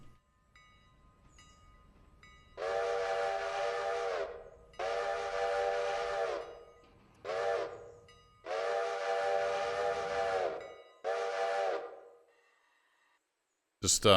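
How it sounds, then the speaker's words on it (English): A repaired steam locomotive in the Railroader video game sounds its whistle in five loud blasts, some long and some short, with brief gaps between them over a low ambient rumble. "Just do all the whistles, Al"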